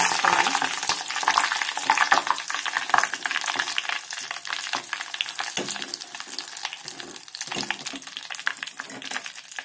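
Betel leaf frying in hot, fully heated ghee, a steady loud crackling sizzle with bubbling and spitting throughout and no talk.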